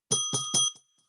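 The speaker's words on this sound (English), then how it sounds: "We get the bell out." A handbell rung three quick times, bright ringing strokes close by that fade into a short decay.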